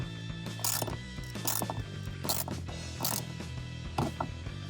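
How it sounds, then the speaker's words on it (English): Ratchet wrench tightening a bolt on a Misch 4x4 5-inch BigBoy seat bracket in a Jeep Wrangler JL, giving close rapid clicking bursts in several separate runs with short pauses between. "now I'm going to tighten it up further with the wrench"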